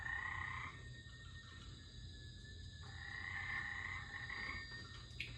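A frog croaks in the Lego Jurassic World video game, steady buzzing tonal croaks in two long pulses with a short gap, moderately loud over a low game hum and no speech.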